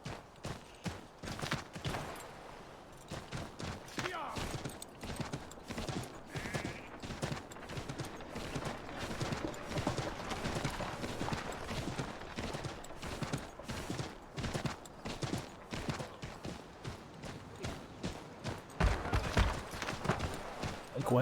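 Horse hooves clip-clop steadily in an Assassin's Creed video game, a fast, continuous rhythm of close hoofbeats with scattered sharp cracks mixed in, and no voices.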